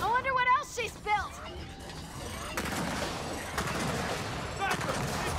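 Sniper and heavy gunfire in Gears of War 4, a sustained rattling barrage filling the second half, with loud shouted voices over it earlier.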